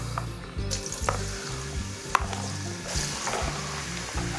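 Onion and carrot fry in vegetable oil with a steady, close sizzle, joined by periodic stirring scrapes and a few sharp clicks of a utensil against the pan.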